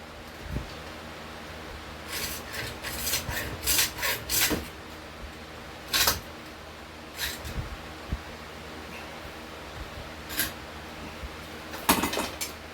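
A hand file rasps across whitetail deer bone being shaped into a fishing point, irregular scraping strokes coming in short close bursts separated by quiet gaps.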